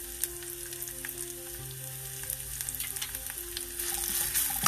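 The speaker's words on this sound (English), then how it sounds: "red chili and curry leaves, add crushed garlic" Red chili, curry leaves and crushed garlic sauté in hot oil with a steady close sizzle and crackle, plus a low hum in the background; the frying grows louder and busier toward the end.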